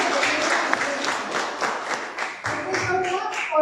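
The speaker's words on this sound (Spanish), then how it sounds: "Un aplauso para la hermana Zulay." A church congregation at a baptism service claps in a lively, fairly regular rhythm for several seconds, with voices audible alongside the applause.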